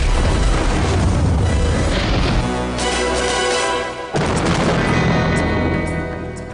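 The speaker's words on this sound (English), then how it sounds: "unfeasibly large explosions" Large film-set explosions during Casino Royale filming in Karlovy Vary, Czech Republic: a loud rumbling boom with sustained blast noise, then a sudden cutoff and a second burst.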